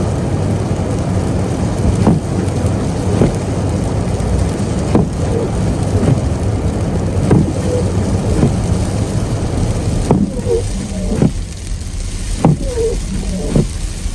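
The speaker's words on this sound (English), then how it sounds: "It's winter time. Ice storm hit." Freezing rain in an ice storm patters steadily on a car being driven home in winter, with a constant road rumble and regular dull thumps recurring every second or so.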